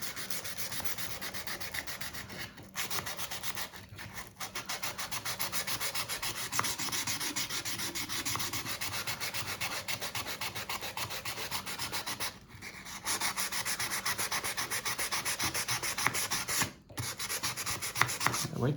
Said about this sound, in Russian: Убираем риски предыдущей наждачки.